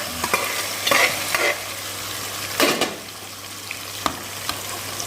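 An aubergine and cowpea curry is stirred and mixed in a pan, with close scraping strokes and a few knocks over a soft, steady sizzle and a low constant hum; no one speaks.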